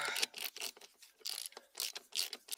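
Ratcheting clicks from a hand tool loosening the brake booster bracket on a Lexus IS3 in freezing weather, several quick bursts of close, crisp metallic ticking with short pauses between.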